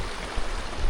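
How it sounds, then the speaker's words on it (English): Mountain river fed by an alpine lake, a steady broadband rush of flowing water heard close and continuous, with a slight swell near the end and no voices. "This river is definitely coming from the lake."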